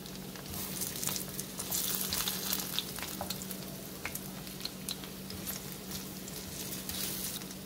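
Imitation fish fritters, made without fish, sizzle steadily in a pan of oil over medium-low heat, with a continuous close crackle and small scattered pops throughout and no voices.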